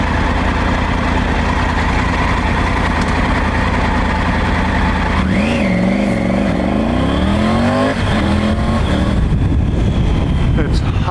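A Triumph Tiger 900 Rally Pro motorcycle drones along under steady wind rush, then accelerates hard on the quick shifter, its engine pitch rising and stepping up through quick gear changes, close and loud.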